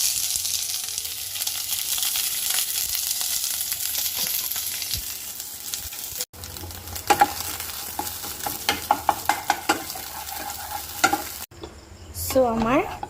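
Chicken bites cooked in an air fryer without oil are stir-fried with a heap of capsicum in a pan, giving steady close sizzling and scraping, then sharper clatters of a spatula against the pan with no one talking.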